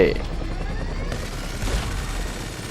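Rapid gunfire aimed at a helicopter's rotor in GTA V rattles on as a dense, continuous fusillade of shots over a low rumble of engine and wind, with a voice talking over it.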